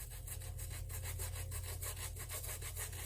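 A brush scrubbing the rubber trim of a Vans shoe in quick, regular back-and-forth strokes, close and steady with no talk.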